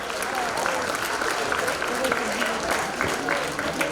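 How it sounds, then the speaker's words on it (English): Audience at a Rotary senior luncheon gives a sustained round of applause, a dense, even wash of clapping with crowd noise and a few voices mixed in. "give yourselves a round of applause"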